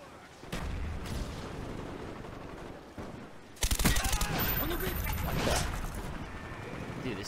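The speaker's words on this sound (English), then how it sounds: "Let me try my AK-47 out here." A silenced AK-47 fires in a World War II era video game, sending out quick muffled bursts over a steady background din, followed by a louder sharper volley of gunfire and clatter.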